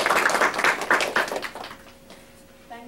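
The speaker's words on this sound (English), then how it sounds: "So let's give her all a warm applause." Audience at a public speaking graduation event claps in a short burst of applause that fades after about a second and a half, followed by quieter room sound and a faint voice.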